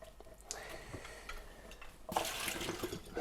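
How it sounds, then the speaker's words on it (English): Water poured onto rice in a cooking pot, a faint splashing trickle at first that swells into a louder, steady pour partway through, heard close with no speech. "what you want to do when you're cooking rice is to add 1 hand of water on top of the rice"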